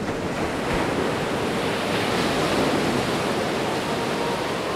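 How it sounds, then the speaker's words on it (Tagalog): A continuous, dense roar of sea waves crashing against a large rock fills the air, with broad rushing water and wind-like noise, loud and unbroken throughout, no voices present. "Tunog ng paghampas ng dagat sa malaking bato."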